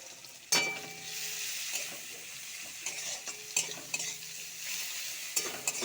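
Chopped onion hits hot oil in a pan with a sudden sizzle that settles into a steady fry, broken by scattered clinks and scrapes of a spoon stirring against the pan for a fish curry.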